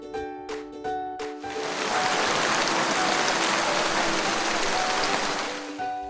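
Light rain falls in a park as a steady, dense hiss that swells in and holds evenly, after a few brief ringing tones at the start.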